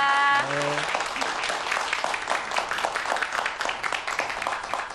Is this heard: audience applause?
yes